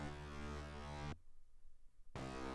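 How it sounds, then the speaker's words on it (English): A side bass synth in a Logic Pro X production, playing as a rich, sustained buzzy tone that holds for a second, stops for a second, then returns, soloed and fairly quiet with no talking. "yeah, this is the bass, the side bass again"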